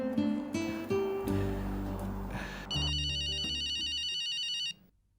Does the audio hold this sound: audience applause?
no